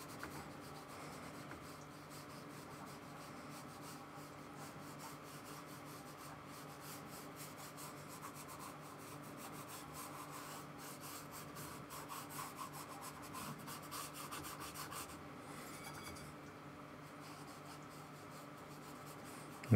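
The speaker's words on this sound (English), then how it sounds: "I'm just using one of my rougher type brushes" Rough-bristled paintbrush scrubbing acrylic paint onto canvas, a steady close scratchy rubbing that runs continuously and evenly for the whole stretch, with no voices.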